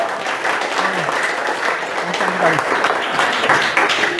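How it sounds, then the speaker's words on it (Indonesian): A classroom of students claps during a lesson, steady applause running throughout at fairly loud level with a few voices mixed in. "Belum dikasih tepuk tangan ini tadi."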